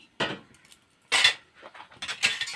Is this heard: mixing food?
yes